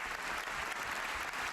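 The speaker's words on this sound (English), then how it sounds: "Tory MPs stood to clap" Applause from Tory MPs standing in the House of Commons chamber, a dense, steady roar of many hands clapping at once, held evenly loud throughout with no voices rising above it.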